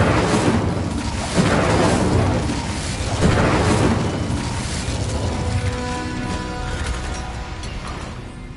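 Incendio fire spell cast in Hogwarts Legacy, a dense roaring whoosh of flame with booming bursts that swell, peak and fade over several seconds, loud and continuous amid game effects.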